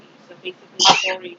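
A single loud, sharp sneeze bursts out close by, preceded by a faint breathy intake, while someone keeps talking around it.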